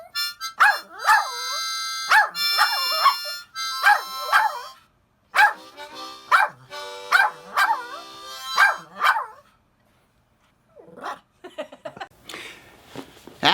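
Louie the dog howls and sings in a long series of close, loud, tonal yowls and barks, broken by short pauses, then falls quiet before a faint rustle at the end.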